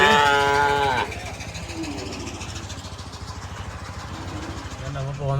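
A buffalo on a roadside lets out a loud, drawn-out moo nearby, then a motorcycle engine idles with a low throb before a second moo begins. People talk throughout.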